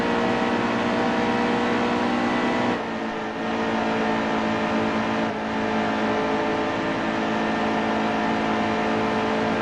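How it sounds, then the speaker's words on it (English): Tires on a stock car in the NASCAR Heat 2 racing game squeal over a steady, loud engine drone, the sustained screech running unbroken through the whole stretch with two brief dips. "Listen to that tire screeching."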